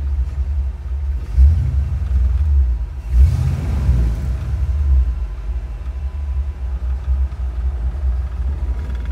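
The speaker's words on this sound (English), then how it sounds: "Idling right along." A 1958 custom Ford Ranchero's 351 Windsor V8 idles with a low, steady, burbling rumble, rising briefly once or twice before settling back to an even throb.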